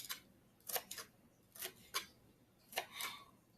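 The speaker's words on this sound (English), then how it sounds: "we want to cut our dill weed up" Dill weed being chopped with a dull knife on a board, giving a handful of sharp, separate cutting taps at uneven intervals, close and moderately loud with quiet gaps between and no talking.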